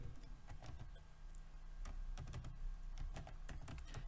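Employee names being typed on a computer keyboard, a steady run of quick, close key clicks with a few louder strikes over a low room hum, no voice.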